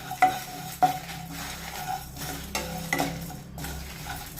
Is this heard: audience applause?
no